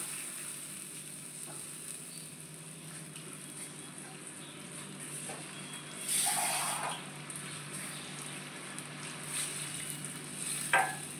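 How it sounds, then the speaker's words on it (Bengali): Water is poured into a pan of butter garlic chicken gravy, starting as a soft sizzle and turning into a louder gush and hiss midway, then settling back to a low bubbling with a few light clinks. "তো এটা এখন হয়ে গেছে, আমি এতে একটু জল ঢেলে দিলাম।"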